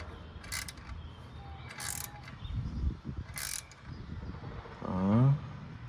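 A bolt is tightened on an aftermarket AliExpress exhaust fitted to a Triumph Street Triple 765 RS, giving short bursts of ratchet clicking with a brief metallic squeak near the end, close and fairly quiet.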